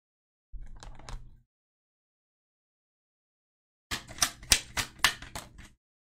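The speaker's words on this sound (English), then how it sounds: "Okay. Let's get another card." Tarot cards being shuffled and drawn, a brief soft burst of card riffling followed after a pause by a louder run of sharp papery slaps and flicks, close and alone with no talk.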